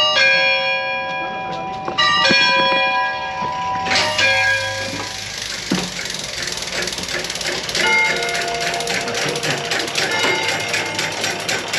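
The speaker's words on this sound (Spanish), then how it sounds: "vamos a escuchar las campanas" Bright metallic church bell tones ring out in layered, overlapping strikes in a historic town centre in Jalostotitlán, Mexico, growing fuller after a few seconds and sustaining with a rich, resonant shimmer.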